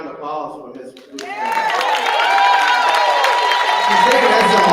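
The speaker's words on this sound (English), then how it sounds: "how about another round of applause for Ms." After a faint voice, an audience at a banquet breaks into applause and cheering for a singer, claps mixed with whoops and shouts that swell and stay loud.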